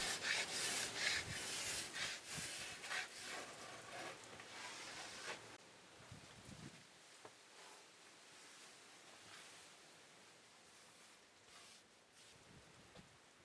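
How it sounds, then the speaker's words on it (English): Card scraper drawn across a wooden board to clear tool marks, several close rasping strokes at first, then thinning to quieter scrapes and light taps in a calm workshop. "I use a card scraper to remove any final tool marks and get the surface nice and smooth"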